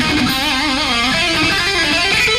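A picked electric guitar lick in a rock style, a continuous run of distorted notes played loud and close with no pauses, no talking over it.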